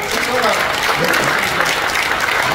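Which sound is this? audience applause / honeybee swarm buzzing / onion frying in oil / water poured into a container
audience applause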